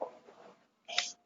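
One quick sneeze bursts out near the end, following a few soft breathy sounds, close and fairly quiet in an interview setting.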